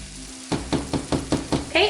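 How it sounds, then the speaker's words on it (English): Onion sautéing in a pan on medium heat, with a soft sizzle under a series of about six rhythmic spoon knocks and scrapes against the pan, close and fairly loud, a voice starting at the very end. "we are going to saute our onion"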